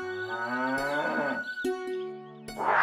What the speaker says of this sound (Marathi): तेवढ्यात त्याची नजर एका काळ्या बैलावर पडली।